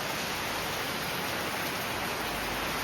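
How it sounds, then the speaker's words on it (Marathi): Dense, steady hiss of heavy monsoon rain pouring down in Konkan, loud and unbroken, with no voices. "पाऊस वाढतोय पाऊस वाढतोय जोर वाढवतोय"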